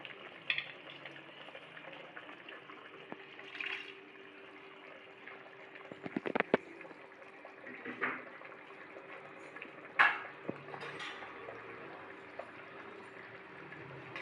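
Water and washed araikeerai greens are poured into a cooking pan of sautéed ingredients. Soft sizzling and bubbling run throughout, with a few sharp clinks of utensils against the pan and no talk.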